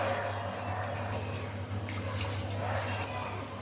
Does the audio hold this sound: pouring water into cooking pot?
yes